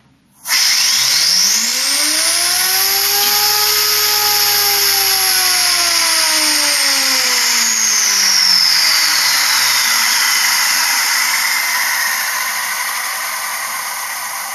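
A bladeless Tesla turbine run on compressed air from a compressor spins up with a loud rising whine that holds steady, then slowly sinks in pitch as the air runs out, heard alone and up close.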